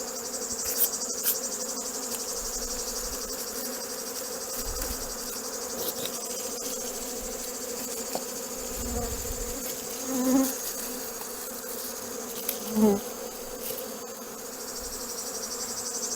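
Honeybees from several nucleus colonies being merged for wintering buzz steadily around hive boxes in a dense, continuous drone, close and alone, with a couple of brief louder swells as individual bees pass near.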